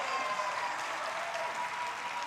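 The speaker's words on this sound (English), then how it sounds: "it sounds as if the crowd's behind him" Spectators clapping at an indoor national tennis championship, a steady sustained round of applause heard from a distance throughout, fairly soft, without a break.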